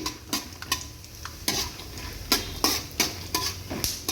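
Roasted gram being fried and stirred in a pan for girmit mandakki: repeated sharp scraping and rattling strokes over a light sizzle, close and fairly loud, with no voices.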